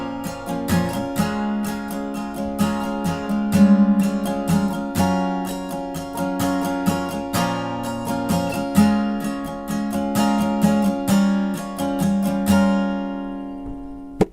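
Acoustic guitar strummed slowly through the pre-chorus of a song, steady sustained chords ringing with regular strokes, close and clear with no voices.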